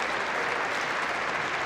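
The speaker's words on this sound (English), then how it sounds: "Well, the crowd were clapping there." A crowd applauds at a professional squash match at the 2019 Tournament of Champions: dense, steady clapping from many spectators, continuous and moderately loud, with no voices.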